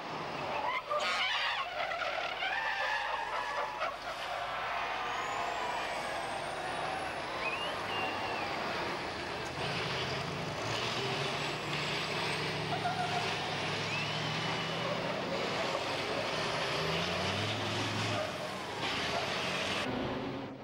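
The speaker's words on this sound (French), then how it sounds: "Et voilà 75 tonnes de camions qui passent la ligne rouge à 30 km/h" Heavy racing trucks roll across the start line at Donington Park at low speed, a loud, rumbling mass of diesel engines with air-brake hiss and rising revs, under a commentator's voice.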